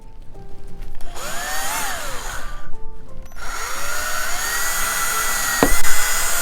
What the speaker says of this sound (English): I put a drill bit on here.